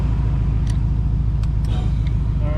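A 2017 Subaru STI running on a dyno as the brake is applied, giving a steady loud engine and drivetrain drone with low rumbling harmonics and a few brief higher squeaks, with no talk.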